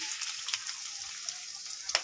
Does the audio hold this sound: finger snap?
no